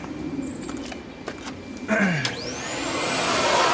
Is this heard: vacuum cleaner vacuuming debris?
yes